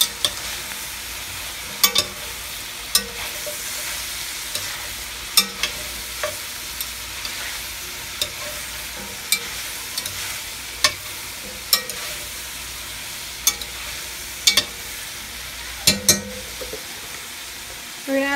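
Baby carrots and chopped leeks sizzle in oil in a pot, stirred with a spoon that knocks and scrapes against the metal in irregular taps over a steady frying hiss.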